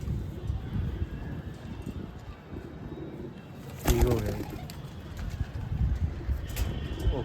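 Pigeons at a pigeon club tournament in Amritsar coo and flutter among steady background bustle, with people talking nearby and a short burst of wing flapping midway.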